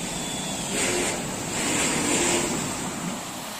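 Steady rushing water, a broad continuous hiss with gentle surging swells, water flowing through a sand filter bed at a water treatment plant, no voices.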